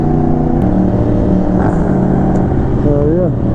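A Lamborghini sports car's engine rumbles loud and close in a street setting, with a brief rising rev near the end. Someone talks over the engine sound.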